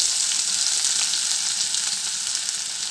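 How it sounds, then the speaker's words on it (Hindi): Chopped onion sizzles and fries steadily in a tablespoon of hot oil for an aloo matar sabzi, a close, continuous crackling hiss with no talk. "तेल हो गया है गरम, और इसमें डाल देते हैं"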